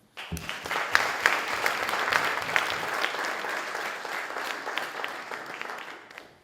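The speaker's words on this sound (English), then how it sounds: "giving a round of applause to him" A conference audience breaks into steady applause, many hands clapping densely at a constant level for several seconds, then fading out at the end.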